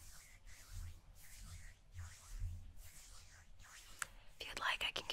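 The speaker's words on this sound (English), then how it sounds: "Now just rub your hands together." Hands rub together with lotion in soft, close swishing strokes, repeated rhythmically in a quiet ASMR bedroom setting, with a few sharper clicks and handling sounds at the end.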